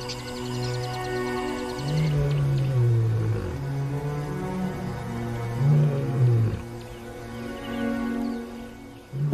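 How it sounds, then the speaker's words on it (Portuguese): A male lion gives deep contact roars across open grassland, calling for its brother. The long, drawn-out roars swell and fall twice, loud and close, over a steady tonal background, with no talking. "Por dias, os rugidos de contato de Jericó reverberam pela campina, chamando por seu irmão."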